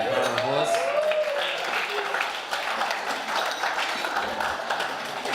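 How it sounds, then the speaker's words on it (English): Wedding guests applaud the groomsmen in a loose, moderate round of clapping heard alongside voices, laughter and a speaker talking over it, the clapping fading to a thinner patter toward the end. "Can we have a round of applause?"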